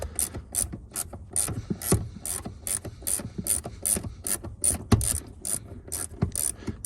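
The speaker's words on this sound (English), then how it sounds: "Right now I'm gonna take these two bolts out. They're 13 mil." A hand ratchet clicks in a steady, close rhythm of repeated strokes while backing out 13 mm seat bolts on an Impala Caprice, with no talking.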